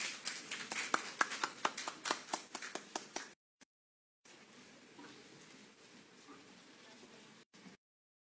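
An audience at a leadership conclave gives a round of applause welcoming an academic to the stage: a burst of claps about three seconds long, moderately close, with a few sharp individual claps standing out, then a gap and quiet room murmur.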